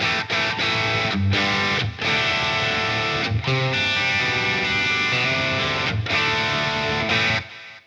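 A distorted electric guitar played through a multi-effects pedal's internal amp model plays chords and riffs, thick with delay and reverb, loud and continuous with short gaps between phrases.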